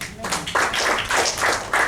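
Congregation clapping in rhythm in a church, several short bursts of close, loud handclaps in steady time.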